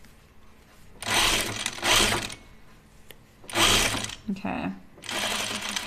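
Sewing machine stitching in several short runs of rapid mechanical whirring separated by pauses, close and clear, with a brief spoken word between bursts.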